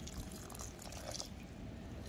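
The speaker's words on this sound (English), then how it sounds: "make sure that you water the potting mix, that this is wet," Water is poured onto potting mix being prepared for petunia cuttings, a soft, steady pouring and trickling sound at low level that continues throughout without speech.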